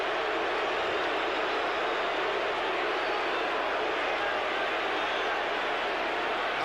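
Huge football stadium crowd roaring steadily throughout at an NFL game in San Francisco, a continuous far-off wash of cheering with no breaks.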